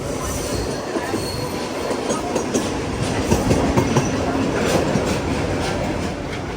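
A Mumbai suburban train rolls into Marine Lines station with a loud, steady rumble. Clickety-clack wheel beats run through it and faint wheel squeal rises along the way.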